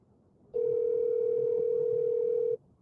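Steady telephone dial tone on an outgoing call, a single continuous pure hum starting abruptly and holding at even loudness for about two seconds before cutting off, with quiet background before and after.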